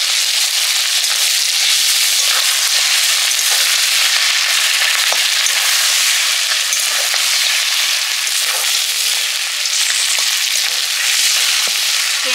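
A fish head frying in hot oil with onion, ginger and garlic while being stirred gives a loud, continuous hiss and sizzle dotted with small pops and crackles, with no talking.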